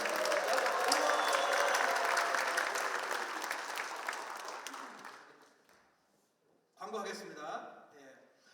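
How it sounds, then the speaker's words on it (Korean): An audience at a church federation president's inauguration ceremony claps together in sustained, loud applause that gradually fades out over several seconds, followed by a brief pause and then someone speaking. "우리 모든 분들을 위해서 다 같이 박수 한번 드리겠습니다."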